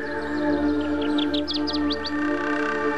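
Kirtland's warbler song in a jack pine forest: a rapid series of bright, rising chirped notes, moderately near, sung over a steady hum of background noise.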